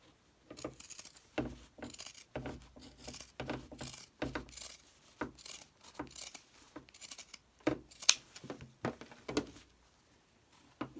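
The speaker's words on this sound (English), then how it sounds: "And then I'm going to cut it off with my pinking shears." Pinking shears snip repeatedly through fabric in a steady run of crisp, close cuts, each a short crunchy chop separated by brief pauses.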